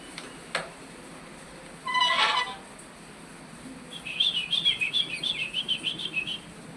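A tame pet bird chirps in the morning air, first with a single short burst, then with a quick run of bright, evenly spaced tweets over a steady background hiss.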